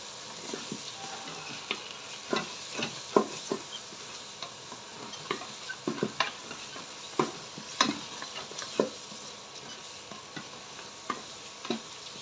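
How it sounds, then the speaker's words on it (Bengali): Lentils (dal) are stir-fried in a rice cooker for bhuna khichuri, with quiet, irregular scraping stir strokes over a soft, continuous sizzle. "আমি ডালটা ভুনা করব।"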